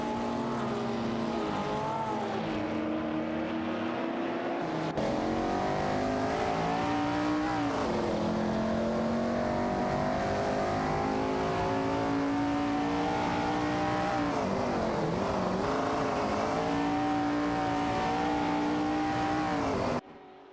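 Race cars in a video game race roar along continuously at high revs, engines rising and falling through shifts and overlapping as the pack battles for position, loud and steady for the whole stretch with no voices.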